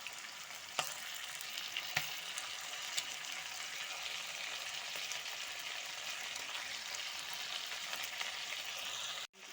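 Meat and potatoes fry in a pot with salt, giving a steady broadband sizzle that holds evenly throughout, broken by a few sharp crackles and pops, with no voices over it.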